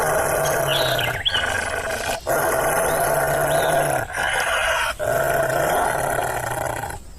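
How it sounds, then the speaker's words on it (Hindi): A wolf growls in long, loud rumbling bursts, several snarls separated by brief pauses, close and with no talk over it. "तभी भेड़िया उसे देखकर गुर्राने लगता है।"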